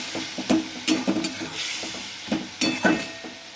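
Spice paste with tomatoes frying for a pomfret curry, stirred in a pan: a soft continuous sizzle broken by several close scraping stirs, with no voices.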